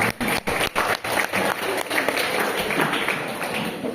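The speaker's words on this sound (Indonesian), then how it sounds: "Udah tepuk tangan dulu, udah tepuk tangan." Children and audience clapping at a humorous Isra' Mi'raj religious lecture, a dense steady patter of many hands filling the room, with a few sharper claps early on and no speech.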